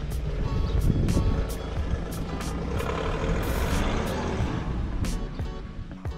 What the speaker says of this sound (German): Wir drehen jetzt die Szene, Auto fährt los.